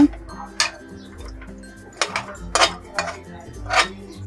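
A metal lid set onto a saucepan of spiced biryani left to cook, giving a few sharp clinks and rattles at intervals over a low kitchen hum.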